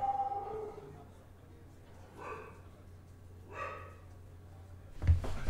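A dog in Lord of the Rings Online gives a couple of soft, drawn-out barks or howls, fairly faint over a quiet background, followed by a sharp thump near the end.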